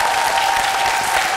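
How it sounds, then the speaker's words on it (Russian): A studio audience claps in a dense, loud, even burst of applause that holds steady and runs for a short stretch, with no voices rising above it. "Это заслуживает аплодисментов."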